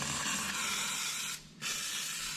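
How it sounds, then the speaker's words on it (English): WD-40 lubricant sprayed from an aerosol can onto a machine chain, a steady close hiss with one brief pause before the spray resumes. "take this WD-40 and kind of just oil the chain a little bit"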